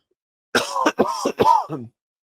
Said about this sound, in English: we've been coughing up this stuff constantly